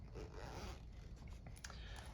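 A zipper on a Maruca bag is worked back and forth, quick close-up rasping pulls with a few sharper clicks near the end.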